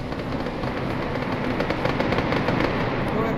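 Rapid bursts of gunfire in the video game Arma 3, sharp repeated cracks over a dense, noisy background, with volume swelling slightly toward the end.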